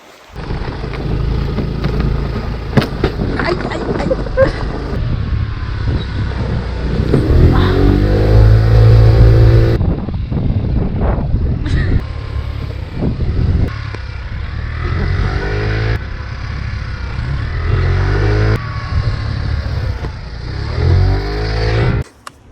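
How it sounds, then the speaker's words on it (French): A struggling scooter engine in Tahiti strains and drones loudly for a long stretch, rising and falling in pitch as it labors, with wind-like rumble underneath. "Le scooter, il a peiné."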